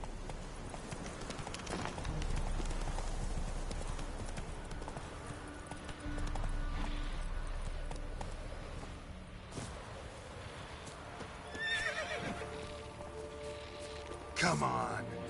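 Roach, the horse in a PS4 video game, gallops with steady hoofbeats and wind rushing past, and a whinny rises near the end. A voice speaks over parts of it.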